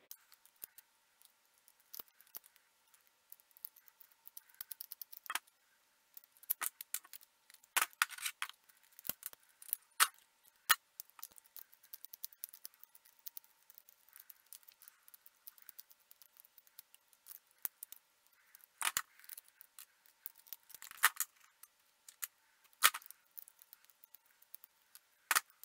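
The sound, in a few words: screws being loosened on a 3D-printed toy derringer frame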